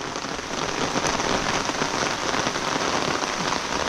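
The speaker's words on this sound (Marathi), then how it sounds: "जोरात पाऊस पडतोय" Heavy unseasonal April rain pours down in a Konkan village, a dense, loud, steady hiss with no pause and no voices.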